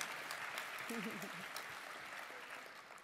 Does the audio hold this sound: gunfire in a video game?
no